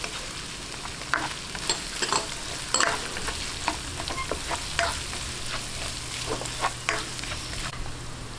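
Onions with ginger are sautéed in a pan for Marinduque-style kare-kare, a steady close sizzle broken by repeated scraping stirs of the spatula, with no talking.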